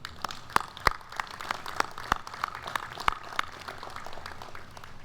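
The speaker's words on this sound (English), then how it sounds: "Let's give all those artisans a hand of applause as well." Scattered audience clapping at the opening ceremony of the 70th annual Choctaw Indian Fair, with sharp individual claps standing out over a steady patter, fairly loud and continuous through the moment.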